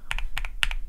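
Crisp keystrokes on lubed G Pro 2.0 mechanical keyboard switches: three close pairs of bright clacks, each press followed by its release, heard up close and alone.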